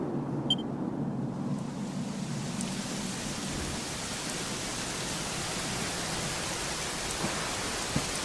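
Steady rain falls in the video game Dragon Quest XI, a soft continuous hiss with a low rumble beneath it, even and moderately loud throughout with no voices.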